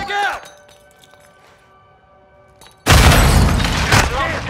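A frag grenade explodes in Call of Duty Modern Warfare II team deathmatch multiplayer: a quiet stretch, then a sudden loud, close blast that rolls on with debris and rumble, with brief voice callouts.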